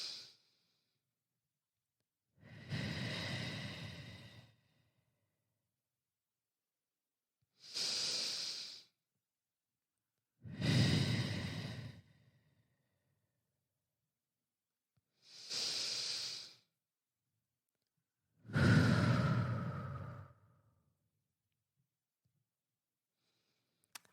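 Deep, slow breaths taken together at the start of a session, each a long hissing inhale or exhale separated by silence, five or six close breath sounds spread evenly with no talking.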